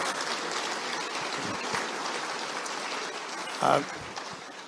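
An audience at a UFO congress applauds in a steady, even wash of clapping that runs the whole stretch at moderate level, with a brief louder burst near the end.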